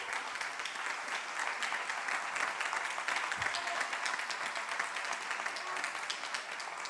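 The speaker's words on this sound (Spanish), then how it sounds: "Desde aquí me gustaría pedirles a todos y a todas un aplauso" An audience at a talk on frontline professional experiences applauds medical and other frontline staff: sustained, even clapping from many hands in a hall, fairly soft and continuing without a break.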